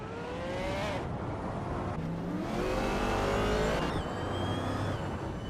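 A 1971 Porsche 917 race car engine in a racing video game revs hard and climbs through gears in loud, continuous bursts with rising whine, pitch dropping at shifts around two and four seconds.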